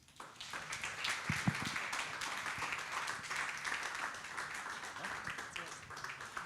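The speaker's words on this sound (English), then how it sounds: "I just let you enjoy now the applause" An audience applauds at the close of a talk at a startup boot camp, a steady, dense wash of many hands clapping that lasts throughout at moderate volume, with a few louder claps standing out early on.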